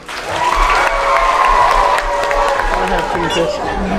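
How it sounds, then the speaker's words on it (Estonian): A school audience applauds as a second-grade class comes on stage at a primary school performance show, steady crowd clapping with cheering and chatter, loud and continuous throughout. "nende jaoks suur aplaus"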